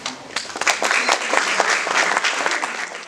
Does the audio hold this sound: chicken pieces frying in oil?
no